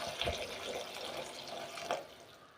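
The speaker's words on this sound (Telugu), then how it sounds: "ఇప్పుడు నేను ఇందులోకి వాటర్ వేస్తున్నాను" Water poured into a pan of vegetable curry with carrots, a steady broadband splashing rush lasting a couple of seconds, close and moderately loud, with no talking.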